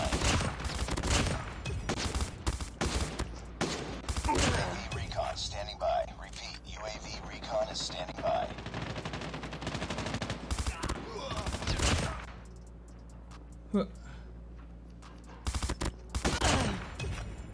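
M16 burst fire in Call of Duty Mobile: rapid, loud bursts of gunfire repeat through most of the stretch, with a quieter lull near the end, under excited commentary from a player.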